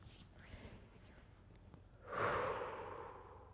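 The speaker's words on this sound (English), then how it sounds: "I'm breathing in. I'm breathing out." Slow, deep breath during a yoga practice: a soft, quiet inhale that swells into a louder, airy, drawn-out exhale, heard alone and close up.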